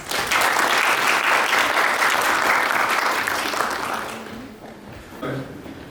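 A conference audience in a hall applauds a speaker, Dr. Iqbal, with steady, loud, dense clapping that holds for about four seconds, then fades, followed by a short noise near the end.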